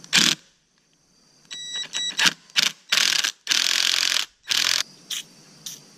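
Ratchet turning a 17 mm top strut bolt on a car being lowered: a series of sharp, close bursts of fast clicking strokes in an uneven rhythm with brief gaps, with no talk.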